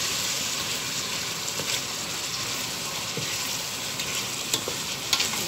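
Fried rice being stirred in a hot pan, with a steady sizzle of frying and soft scraping of the utensil through the rice, close and continuous without talk.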